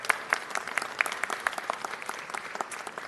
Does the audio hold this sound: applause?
yes